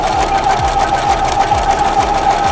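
A domestic sewing machine runs steadily while stitching fabric, a continuous close mechanical whir with a fast, even needle rhythm and faint low thumps, heard on its own throughout.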